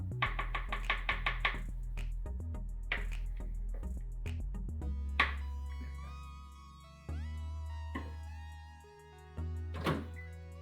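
A spoon knocks and scrapes around a pot of melting oils for a hair mask, a quick run of close metallic taps followed by scattered clinks and scraping against the pot's sides.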